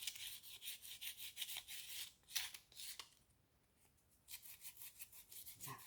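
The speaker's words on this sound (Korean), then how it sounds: "만약에 이 정도로 굳었다 하면 사포로 이렇게 문질러서" Sandpaper rubbing over a hardened surface on a handmade succulent flower pot made from a plastic bottle: close, quiet rhythmic scratchy strokes in quick bursts, a brief pause, then more rasping strokes.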